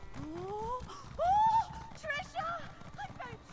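Horse whinnies and neighs from a mount being ridden in The Elder Scrolls Online, with hoof clip-clop underneath and a voice speaking at the same time; one loud drawn-out neigh stands out midway.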